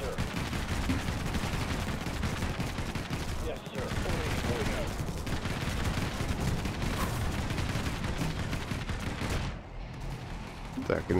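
Constant, dense gunfire and explosions in the top-down shooter game Infested Planet, with loud bursts of weapon fire layered without a break and a player talking under the din.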